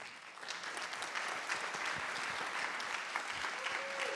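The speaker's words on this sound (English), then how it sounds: "another round of applause" An audience at a climate justice summit breaks into applause, a dense, sustained wash of many hands clapping evenly throughout, moderately loud, with a brief voice near the end.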